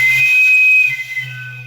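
Hard breath blown into a loudspeaker tube chamber makes a bright whistling tone with strong overtones, close and loud, briefly wavering before settling into a sustained hoot.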